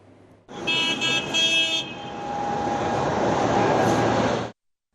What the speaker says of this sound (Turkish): Senaryo gereği yoğun korna seslerine maruz bırakılan şoförler